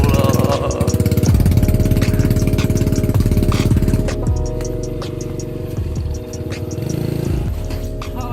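A motorcycle engine runs loud and close with a steady, rapid mechanical chatter while drivers work on the bike, the rhythm dipping slightly midway before picking back up.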